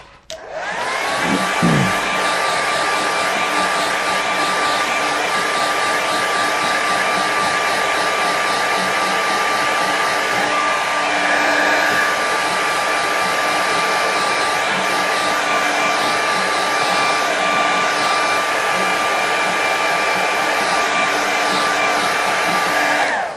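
A hair dryer blows steadily on a watercolour painting, a loud continuous whirring roar with a high whine that runs unbroken from start to finish, close by and with no talking.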